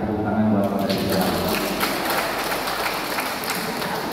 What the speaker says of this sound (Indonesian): Tepuk tangan buat Pak Kades Ciherang